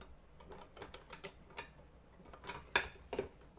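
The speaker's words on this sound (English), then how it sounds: "This is the sausage stuffer I use. It's from Lem." A Lem 5-pound sausage stuffer cranked by hand, giving faint irregular clicks and ticks of the gears, quiet and close, with no talking.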